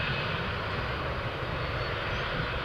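A parked jet airliner at Tampa International Airport gives off a steady, broad engine roar, moderately distant and unchanging throughout, with no voices.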